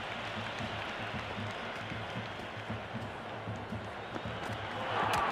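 Video-game crowd in a Cricket 26 India vs Pakistan T20 match roars and applauds steadily after a six, a dense continuous wash of cheering that swells louder near the end.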